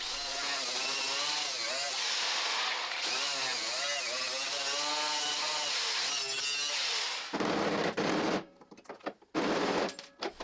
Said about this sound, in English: I'm going to break one more spot weld in there just to be able to pry it away